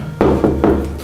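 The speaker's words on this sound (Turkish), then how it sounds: "Kapıyı çalalım." Knuckles knocking on a house door, where the doorbell does not work: three firm, close raps spaced evenly apart, alone without talk.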